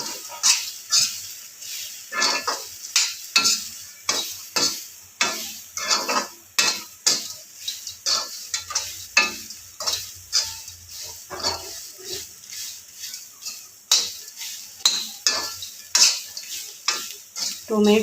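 Bitter gourd fry with coriander and cumin is stirred in a pan, a steady run of close scraping and clinking strokes against the metal with a soft sizzle underneath, no voices.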